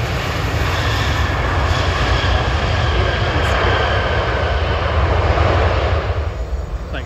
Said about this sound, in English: It's a 737-900ER.